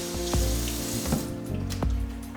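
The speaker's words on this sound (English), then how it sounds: "Now we gotta wash these real properly because a lot of dirt gets stuck in between these little leaves" Tap water runs steadily into a kitchen sink while leeks are rinsed, with clattery splashes and handling noises breaking in every second or so, and no one speaking.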